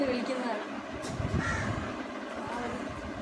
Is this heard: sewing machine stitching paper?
no